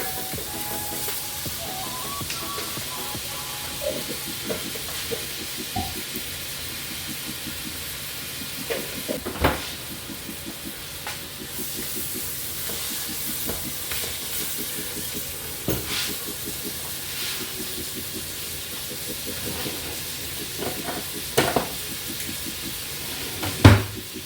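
Roasted garlic sizzling in a hot pan while being stirred, a steady low crackle with occasional scrapes and clacks of a utensil against the pan.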